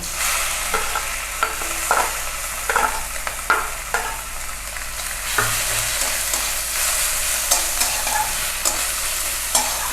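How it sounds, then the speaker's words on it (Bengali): Mushrooms frying in a pan with five-spice seeds, giving a steady crackling sizzle broken by sharp repeated spatula knocks and scrapes, loud and close, without any talking. "এবার 5 ফোড়ন দেব। এবার ছাতুটা তুলে দেব।"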